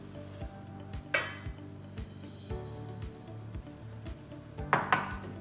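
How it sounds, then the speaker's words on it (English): Eggs are cracked against a bowl rim and dropped into a separate bowl, two sharp knocks standing out over the rhythmic hum of a running mixer and light clatter of kitchenware. "you want to make sure you crack your eggs into a separate bowl before you put it in the mixer"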